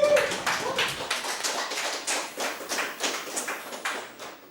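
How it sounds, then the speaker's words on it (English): Applause at a livestreamed charity gaming marathon, a crowd clapping continuously in dense, rapid bursts that swell and dip without pause, fairly close and loud throughout. "you may have already noticed the clapping just now"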